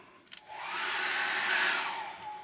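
A hair dryer blows on wet acrylic paint, starting with a couple of small clicks and then a steady, close, loud whooshing roar that holds for a couple of seconds, with no talk.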